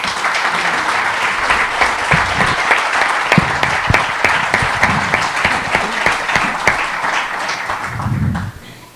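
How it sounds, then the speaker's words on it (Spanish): Loud, sustained applause from an audience at a book presentation, filling the room steadily for about eight seconds before cutting off abruptly near the end. "con un muy fuerte aplauso"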